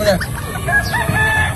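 Roosters crowing loudly and close at a small cockfight, with overlapping calls and clucking from several birds and a little background chatter.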